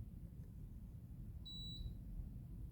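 A mini split air conditioner gives a single short, high electronic beep, faint and distant over a steady low rumble of fan and room noise.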